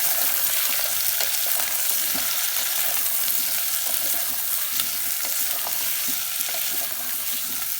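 Chopped onion and potato sizzle steadily in a pan over medium heat, a dense continuous frying hiss with faint scattered clinks of stirring throughout.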